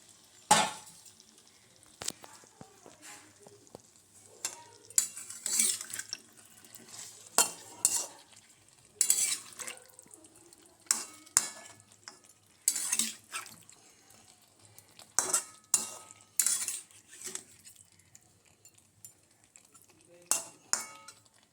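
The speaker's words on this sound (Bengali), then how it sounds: "চিকেনটা টক টক করে ফুটছে" Chicken curry cooking in a pot, sizzling and bubbling with repeated metallic clinks of a spoon and lid against the pot, close and intermittent, with occasional quiet speech.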